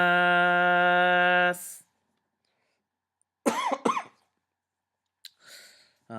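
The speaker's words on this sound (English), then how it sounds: "My cough has not gotten a lot better." A couple of sharp, close coughs burst out after a steady tone stops, followed by quiet and a softer exhale-like sound.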